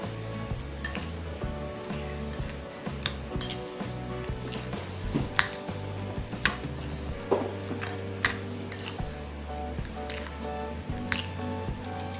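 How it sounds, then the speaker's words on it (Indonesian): Boiled instant noodles get stirred into a nugget mixture in a bowl, making soft, wet squishes and light utensil clinks repeated at a steady pace under background music. "sekarang aku mau langsung aja masukin mie yang tadi udah direbus terlebih dahulu. Lalu diaduk sampai rata."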